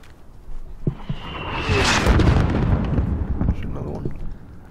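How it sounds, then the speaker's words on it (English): Mortar fire and distant explosions in the war shooter Modern Warfare (2019): a couple of sharp thumps, then a swelling rumbling blast with a whistling streak, loud and boomy, with broad battle noise continuing behind. "There's still a mortar out there."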